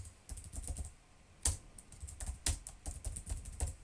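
Code is typed on a computer keyboard while working through a Raspberry Pi motion sensor program: quiet, close key clicks in uneven bursts, a few sharper louder strokes, and no talking.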